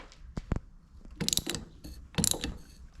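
Thermostat bolts being loosened on a Farmall 460 tractor: a few sharp ratchet clicks followed by bursts of rapid ratcheting, close and clear with no talking.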